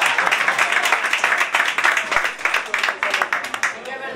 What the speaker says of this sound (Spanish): pida un fuerte aplauso para los organizadores